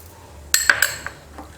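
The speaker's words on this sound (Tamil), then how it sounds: "ஐஸ் க்யூப் சேர்த்துடலாம்." Ice cubes dropped into a glass for a homemade summer juice of cucumber, ginger, mint and lemon, giving a few sharp clinks and rattles close by, then a couple of softer knocks.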